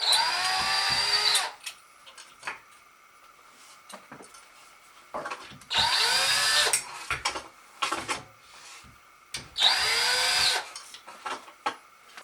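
Cordless power drill backing out the screws at the roots of ceiling fan blades, three loud whirring bursts with rising pitch, separated by quieter clicks and handling clatter.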